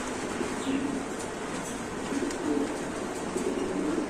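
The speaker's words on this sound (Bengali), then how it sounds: "তো এখানে আছে একটা হাসিয়ান পটার কবুতর" Fancy pigeons at a breeding farm coo in low, soft repeated calls, fairly faint beneath steady background hum and ambient noise, with no clear talking.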